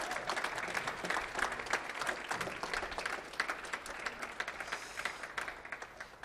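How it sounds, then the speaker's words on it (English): Warm audience applause at an RNW Media welcome event greeting arriving guests, sustained crisp clapping from a crowd that holds steady and tapers slightly toward the end. "warm clap to our change makers who are joining us now"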